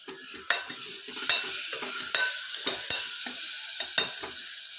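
Spatula scrapes and clatters against a pan in a steady irregular rhythm while chopped tomatoes with a little salt sizzle and fry underneath, close and moderately loud.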